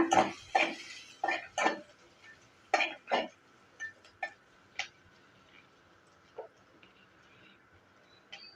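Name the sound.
stirring ingredients in a pan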